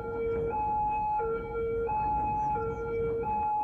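Emergency vehicle siren in the Cities: Skylines video game, a loud two-tone wail alternating steadily between high and low pitches, with faint traffic noise underneath and no talk.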